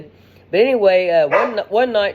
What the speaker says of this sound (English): excuse my dogs, I'm not going to make up for them